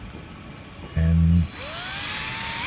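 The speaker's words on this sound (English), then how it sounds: "The arbor adapter, and that's ready to go on the drill" A DeWalt 20-volt cordless drill fitted with an arbor adapter whirs in a short, loud burst of about half a second, then a steady higher motor whine rising in pitch carries on to the end.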